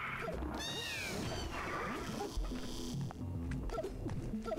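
A cat in a video game gives several sharp meows and yowls in quick succession, close and fairly loud over a busy background of game sounds.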